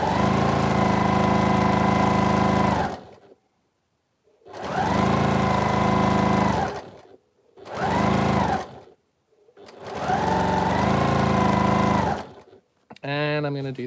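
Sewing machine stitching fat quarter quilt pieces in four separate bursts of steady, close motor whir, with short pauses between runs and a brief spoken moment at the end.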